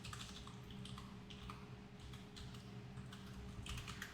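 Keys clack on a computer keyboard in quick irregular bursts, faint against a steady low hum.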